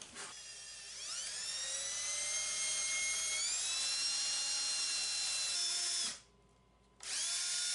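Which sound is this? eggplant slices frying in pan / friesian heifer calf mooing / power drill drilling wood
power drill drilling wood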